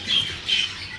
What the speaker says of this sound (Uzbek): baqirganda ona aratinkalar yomon baqiradi